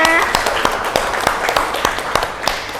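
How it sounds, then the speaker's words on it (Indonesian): A university taxation-management class applauds, with a scattering of individual claps at an uneven pace, fairly close, with a voice audible at the start. "tepuk tangan buat kalian semua"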